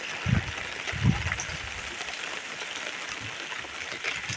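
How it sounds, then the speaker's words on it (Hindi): Steady rain patters across the whole clip, a dense even hiss with a couple of soft low thumps near the start. "अभी भी बारिश हो ही रहा है"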